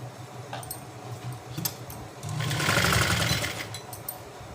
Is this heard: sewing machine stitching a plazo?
yes